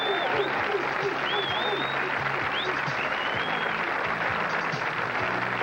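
Audience applause for the champion at the 1988 PBA Cleveland Open bowling final, a steady dense wash of clapping from a large crowd, with a few whistles cutting through and a voice faintly underneath.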